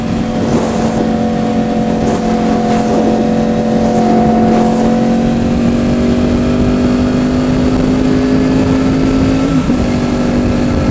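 A Yamaha WR250X motorcycle holds a high, sustained engine whine at top speed, loud and continuous with wind noise, the pitch easing slightly near the end.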